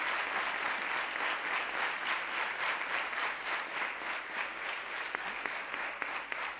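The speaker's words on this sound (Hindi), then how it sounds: "ऋषि कुमारों की यह तालियां इसका प्रमाण है कि गुरु जी की क्या सेवा रही है।" Students in a spiritual school gathering give a sustained round of applause, a steady, fairly distant wash of many hands clapping that fades slightly toward the end.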